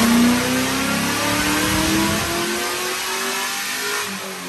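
A car engine revs hard on a dynamometer during a first pull, producing about 418 horsepower. The roar is loud and steady at first, then eases back in the final seconds.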